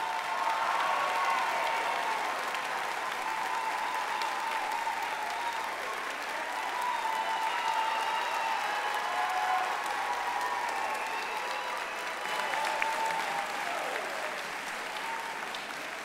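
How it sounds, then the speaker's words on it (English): Graduates at a Florida Atlantic University fall commencement ceremony get a long, steady round of applause from a large crowd, with dense clapping that swells and eases but never stops. "Will all of our first-generation graduates please stand for a well-deserved"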